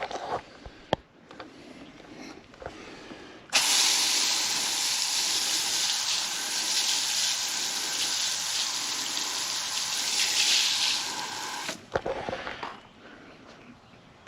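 Water sprays steadily onto spilled FloraGreene fertilizer in a dahlia and boxwood garden, a loud continuous hiss lasting about eight seconds, then cutting off into quieter surroundings.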